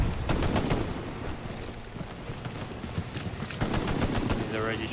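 Dense gunfire in Hell Let Loose, continuous rapid automatic bursts mixed with single shots throughout, loud and close.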